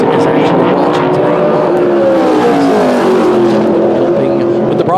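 A modified race car with a John Blewett Inc. PSR chassis runs a qualifying lap at South Boston Speedway, its engine a loud, sustained roar that rises and shifts in pitch, with a commentator talking over it.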